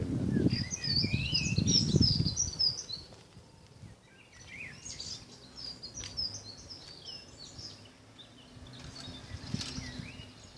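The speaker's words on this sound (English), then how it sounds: "These little birds there" Small birds chirp and tweet in a quiet garden in a park, high bright calls scattered across the clip, with low voice-like sounds near the start and faint insect buzzing underneath.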